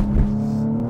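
A powerful BMW 340i B58 inline six-cylinder engine holds a steady, deep rumble, the tone staying mostly constant with a slight swell early on; loud and close.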